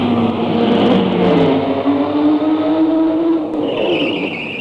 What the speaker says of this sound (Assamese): গাড়ীৰ গো গো আৱাজ এটা শুনি